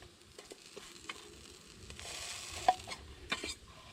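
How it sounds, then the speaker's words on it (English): Potatoes fry quietly in a pan with Spam, with faint stirring scrapes and a couple of sharper clicks of a utensil. "There's our fried potatoes."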